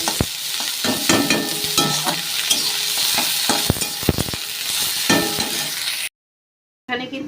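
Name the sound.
onions frying in oil in a wok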